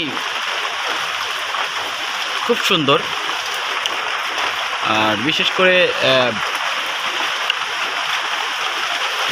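Light afternoon rain falls as a steady, soft hiss throughout, with a person talking over it in the middle and a few brief bird-like chirps.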